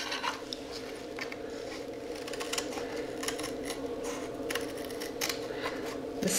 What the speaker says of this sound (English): The scissors work just fine.